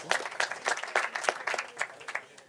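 A small audience at a pitch competition claps in quick, uneven bursts for a couple of seconds, with no voices over it.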